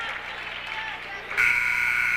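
End-of-quarter buzzer at a girls' JV high school basketball game, a steady loud electronic tone starting abruptly partway through and sounding to the end, after crowd and gym noise.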